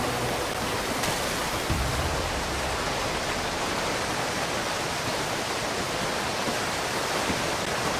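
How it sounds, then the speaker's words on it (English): A waterfall in the video game Call of Duty Ghosts gives a steady, dense, roaring rush of falling water. It is close and constant for the whole stretch with no voices. "We can hide behind that waterfall."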